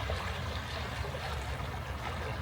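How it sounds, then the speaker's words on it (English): Ocean waves roll in between rock formations along a windy coastal waterfront, giving a steady broadband wash and churn of water with no distinct breaks, continuous and fairly close. "The waves are really traveling in at a decent speed between those two rock formations here"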